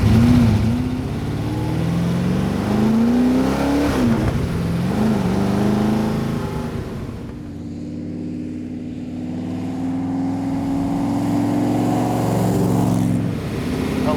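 A loud, rumbling vintage race car engine with side pipes idles and revs close by, its deep exhaust note rising and falling with several throttle blips.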